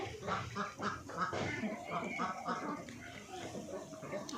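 Ducks on a duck farm give a dense, continuous chorus of loud quacks and honks, close by, with the calls overlapping throughout.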